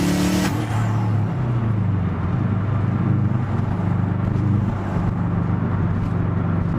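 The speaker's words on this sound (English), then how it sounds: "But that wastegate is loud as f***." A Subaru WRX fitted with an external wastegate revs hard, a loud close roar with a sharp rising burst at the start that settles into a sustained rough engine drone.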